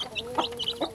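Backyard hens clucking near a mother hen with newly hatched chicks, several short clucks in quick succession, close and clear over a faint background.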